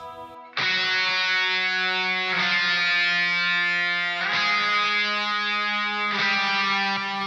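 Electric guitar lead tone run through a Darkglass Alpha·Omega 900 with an IR loader, playing sustained distorted octaves: four ringing notes struck in turn, loud and close, each held until the next.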